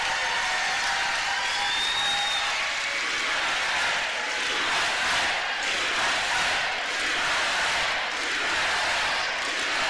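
A large rally crowd in Savannah, Georgia applauds and cheers steadily for the Kemp family, with dense clapping and whoops sustained loudly throughout and no speech over it.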